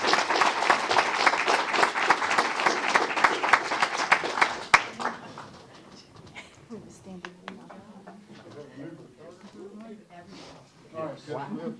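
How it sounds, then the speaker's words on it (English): A round of applause from the audience at a city council meeting in Temple Terrace, loud and dense clapping for several seconds that ends abruptly, followed by quieter talk and murmuring in the room. "Let's give them a round of applause."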